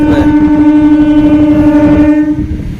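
A running train holds a loud, steady horn-like tone from start to finish, rich in layered harmonics, fading slightly near the end over a rumbling background.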